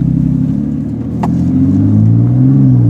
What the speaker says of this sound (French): le compresseur il s'arrête pas, les gars